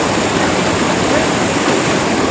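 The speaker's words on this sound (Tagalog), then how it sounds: "Nasa taas na kami at meron pong running water." Running water from a waterfall beside a swimming pool, a loud, constant broadband rush filling the whole clip.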